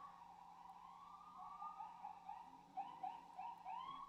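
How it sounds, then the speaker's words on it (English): An ambulance siren wails faintly in the distance, its rising and falling tones repeating as it passes, heard alone under quiet room tone. "Sorry about the ambulance, guys."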